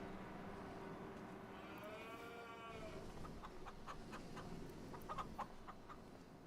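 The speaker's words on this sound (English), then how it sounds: "you got your cows here" Cattle on a farm in the Farming Simulator 25 video game give a drawn-out moo over faint farmyard ambience, followed by scattered light clicks and knocks.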